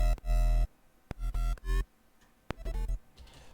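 Dry dubstep bass synth patch in Bitwig with every effect switched off, firing in short, punchy bursts separated by gaps, with heavy low end and buzzy harmonics, loud and close with no voices.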